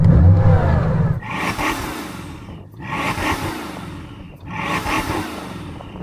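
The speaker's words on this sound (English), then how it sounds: "I'm going to rev up this Bugatti first." A Bugatti Chiron Super Sport engine revs up three times in a row, each rising roar falling back to a rumbling idle, loud and close.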